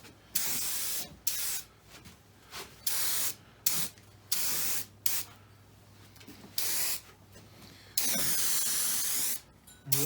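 A spray gun lays paint onto a replacement car body panel in repeated short hissing bursts with brief pauses between, ending in one longer sustained spray, close up.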